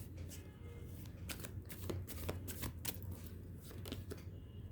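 Tarot cards shuffled and drawn by hand, a steady papery riffling and flicking with several sharper snaps of cards being pulled, close and fairly quiet, with no talking.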